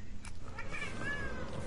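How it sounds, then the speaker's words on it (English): A cat meows, faint and somewhat distant, with a couple of short calls followed by a longer drawn-out wavering meow over quiet background noise. "I hear a cat."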